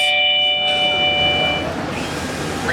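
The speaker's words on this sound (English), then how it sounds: "When someone ring the bell like this," Smart lock doorbell chime, a bright electronic ring of steady tones lasting about a second and a half, loud and close, then fading into background hiss.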